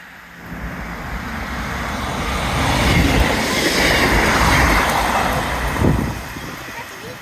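A train passes through Blaydon station on the Tyne Valley line, a steady broad rumble of wheels on rail swelling loud and close midway, with people talking over it.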